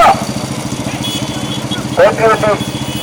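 A motorcycle engine idles with a steady, pulsing low rumble throughout, while people talk over it in bursts.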